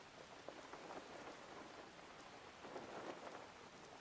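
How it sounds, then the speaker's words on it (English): Steady rain falls in a fantasy role-playing video game world, Elder Scrolls Online, a constant soft hiss of drops on surfaces with slight swells and no voices. "It's a rainy day today."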